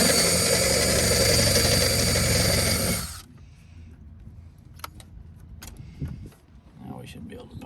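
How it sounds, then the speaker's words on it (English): A power drill whines steadily for about three seconds while drilling out a rivet in the door of an OBS Chevy/GMC truck, then stops, leaving scattered clicks, taps and handling noises close by. "We're gonna drill this rivet out"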